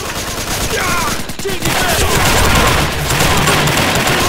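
AK rifle fire in the video game BNG: Battery Online, a dense, loud stream of rapid automatic shots over game ambience, continuous with a brief dip midway.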